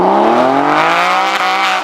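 A Porsche 911 GT3 engine revs loud and close, its pitch climbing steadily in one continuous pull, with a brief dip near the end.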